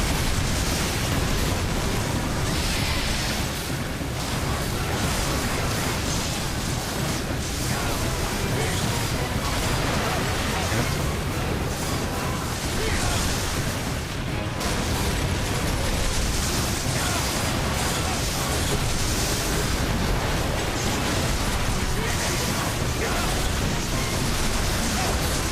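Explosions from a gunlance in Monster Hunter Frontier Z: a dense, steady roar of game blasts and crackling noise that fills the whole stretch, loud and continuous with no quiet gaps.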